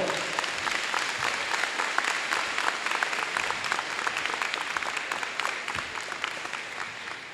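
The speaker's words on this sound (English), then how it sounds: "let's give a round of applause to all of our employees" A school audience gives sustained, fairly dense applause for employees, many hands clapping evenly with no voices, fading slightly toward the end.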